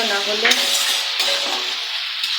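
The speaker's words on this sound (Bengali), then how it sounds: "এইগুলো ঢেলে বারবার আমাকে নাড়তে হবে" Yogurt and gram flour batter poured into a pan for kadhi and stirred with a utensil: a soft frying sizzle beneath occasional scrapes and clinks of the spoon against the pan, steady and close.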